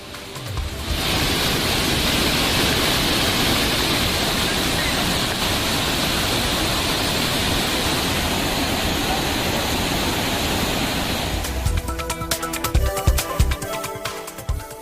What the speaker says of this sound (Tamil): நீர்வரத்து காரணமாக மெயின் அருவி, செனி அருவி உள்ளிட்ட அருவிகளில் நீர் ஆர்ப்பரித்து கொட்டுகிறது.